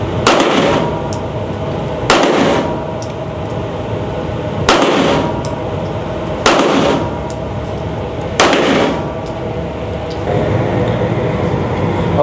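Five loud, sharp gunshots from a Daniel Defense H9 handgun ring out at a range, each followed by a brief decaying echo, spaced roughly two seconds apart, with no talking.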